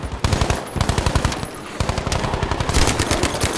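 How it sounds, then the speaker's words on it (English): Rapid automatic gunfire from the Battlefield V video game, loud bursts of machine-gun shots crackling in quick succession with brief pauses between volleys. "Where the fuck is that dude shooting from?"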